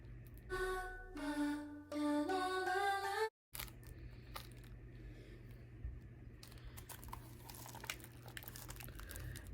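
A Five Nights at Freddy's package gets unwrapped: after a few seconds of background music and a brief silence, close crinkling and tearing of wrapping continue in irregular bursts.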